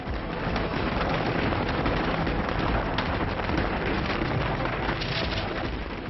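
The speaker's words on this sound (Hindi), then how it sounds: "शाम को 1 लाख देसी घी के दिए जलाए गए और शानदार आतिशबाजी भी की गई।" Diwali fireworks over the Golden Temple in Amritsar: a dense, continuous barrage of crackling bursts and booms that stays loud and steady for several seconds without a break.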